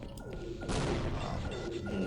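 An explosion bursts in the first-person shooter Half-Life, a sudden loud broadband blast that swells and then rumbles on steadily to the end.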